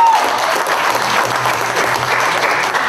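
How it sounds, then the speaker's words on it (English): An audience at a rap battle event claps in a dense, sustained burst of applause that fills the few seconds, fairly close and loud, with a faint murmur of voices underneath. "Clap it up for that."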